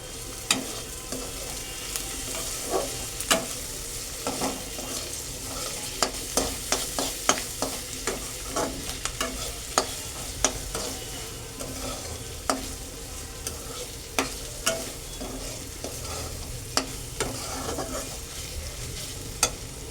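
Parathas fry in a pan with a steady, close sizzle for the whole stretch, punctuated by frequent sharp clicks and taps of a utensil against the pan.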